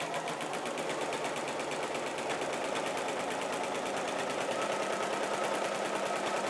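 A sewing machine with a walking foot stitches through a quilt in a steady, fast, even mechanical chatter that runs unbroken and close for the whole span.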